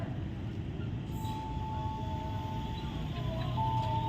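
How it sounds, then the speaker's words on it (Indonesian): A CC 206 locomotive hauls a long-distance train past at speed, a steady loud rumble of wheels and rails with a faint high squeal, heard without talk. "Ini sudah mulai terlihat lokomotif CC 206 nih. Ngebut banget teman-teman keretanya."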